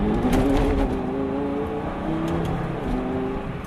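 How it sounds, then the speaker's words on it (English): A Lamborghini Gallardo on Pirelli P Zero summer tires has its wheels spinning under barely any throttle. A low engine drone mixes with rough tire noise, close and steady, with no voices. "Barely any throttle at all, and the tires spin."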